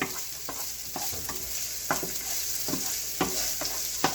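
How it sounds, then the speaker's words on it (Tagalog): Onions frying in a pan for menudo, a steady sizzle with repeated scraping and stirring strokes, close and fairly loud, with no voices. "Tsaka ang ating sibuyas. Antayin lang natin mag golden brown."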